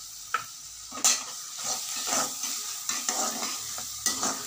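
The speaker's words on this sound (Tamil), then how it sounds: "வதக்கிக்கிட்டு பச்சை மிளகா அதையும் சேர்த்து போட்டு வதக்கிக்கணும்." Onions and green chillies being sautéed and stirred in a pan for an egg gravy, with a steady sizzle and a few sharp scrapes and knocks of the spoon against the pan.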